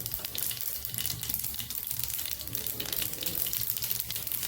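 Mustard seeds and cumin seeds crackle and sizzle in hot oil as a tempering, a continuous close frying hiss with fine popping throughout, no talking.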